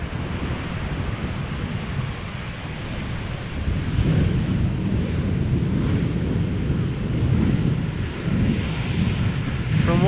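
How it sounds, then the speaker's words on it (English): A Boeing 737-700 airliner at Schiphol Airport: a continuous broad jet engine roar with wind buffeting on the microphone, swelling louder toward the middle and end. "From one 737 to the next. Stubby 737-700 going to center."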